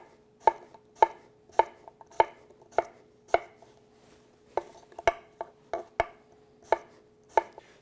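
A Nakiri knife slices through an apple on a cutting board: a series of crisp, close knocks, evenly spaced at first, then quicker and more irregular, with nobody talking.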